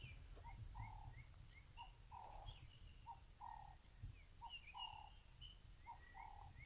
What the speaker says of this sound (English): There's so many birds going on at the moment.